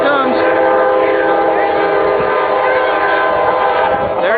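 A train approaches a crossing and sounds a long, loud, sustained horn blast. The blast stays close and steady for several seconds, with a faint rumble of the rails underneath.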